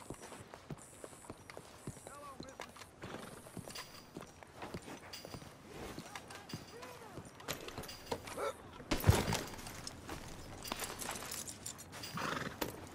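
Steady clip-clopping hooves of a horse on the move in Red Dead Redemption 2, with a whinny and a burst of rustling noise partway through, mixed with game sounds.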